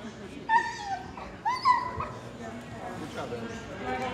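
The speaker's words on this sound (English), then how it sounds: "what is that other dog doing?" A dog gives short yips and whimpers in two or three brief bursts near the start, with people talking over and around it.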